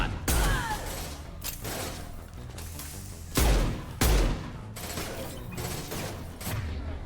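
Gunfire in the Mass Effect 2 video game: a series of heavy, spaced shots with deep thumping impacts and mechanical clatter, several louder blasts standing out, close and punchy.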